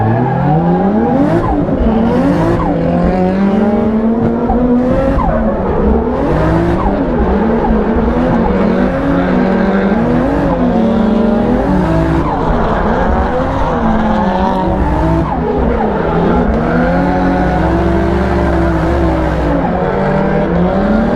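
A BMW E36 drift car with a 1.5JZ engine howls through a drift competition run, engine revs rising and falling continuously over loud, sustained tire squeal, close and relentless throughout.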